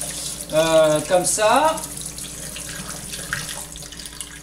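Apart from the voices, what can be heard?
rinsing a container and kefir grains under cold tap water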